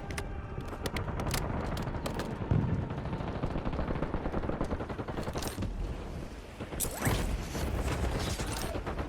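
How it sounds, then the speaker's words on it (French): Weapon reloading in the video game Call of Duty Warzone, with mechanical clicks and clacks over a dense, busy game soundscape that also carries gunfire-like bursts. "Je recharge."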